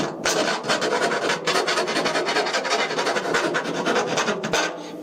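Close, continuous rasping of a file scraping metal, rapid back-and-forth strokes in an even rhythm with no voices.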